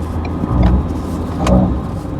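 A Ford Everest Sport with a 2.0-litre single turbo engine pulls hard on the road while overtaking at around 100 km/h, its engine note swelling in two surges over steady road and wind noise from inside the cabin.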